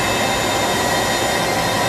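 A SCREEN TruePress Jet 520HD high-speed inkjet press runs at full speed, producing a steady, loud, dense roar of machinery with constant broadband hiss and faint tonal hums, with no talking.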